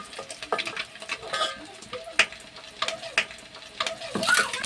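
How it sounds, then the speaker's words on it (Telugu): Onions frying in oil in a pan for a village-style egg curry, a soft crackling sizzle with scattered clinks and scrapes of a utensil stirring against the pan, fairly quiet and with no talking. "ఉల్లిపాయలు వేస్తున్నాను."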